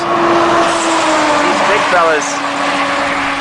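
Pickup trucks roll past on a rural road during a cross-country bike ride, a steady close engine and tire roar that swells and fades, with faint squeal-like tones near the middle.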